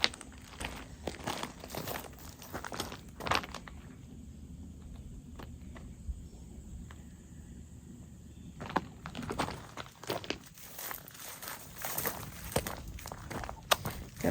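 Paper is crumpled and pulled out of a garden bin outdoors, giving repeated crinkling and tearing bursts with quieter gaps and shuffling steps between them. Insects chirp faintly in the background.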